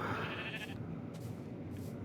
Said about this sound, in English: Oh, and then look at the little baby sheep too.